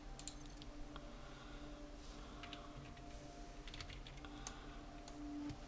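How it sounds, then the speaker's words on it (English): Quiet, close typing on a computer keyboard: a steady run of soft, irregular key clicks with no talk over it. "I was typing then."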